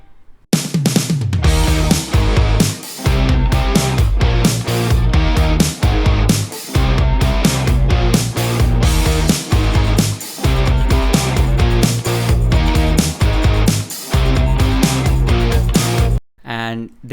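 Full pop rock chorus with layered electric guitar chords panned hard left and right, slight reverb on each guitar, over driving drums and bass; dense and loud throughout, ending in a brief drop near the end.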